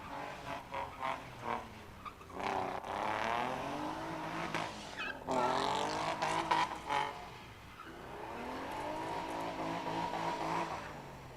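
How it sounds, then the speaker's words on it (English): Cars skid and spin out at high speed during a track test-and-tune session, with long sweeping tire squeals and engine revs rising and falling in waves, fairly loud and continuous, broken by short gaps. "Little high-speed spin-outs there."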